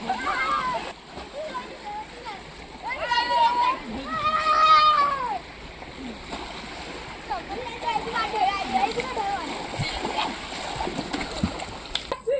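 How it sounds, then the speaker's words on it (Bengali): Wake waves from a trawler that just passed on a Sundarban river splash and slosh nearby in steady surges, swelling around the middle, with people talking and a voice over the water. "কত সুন্দর ঢেউ আসছে দেখো।"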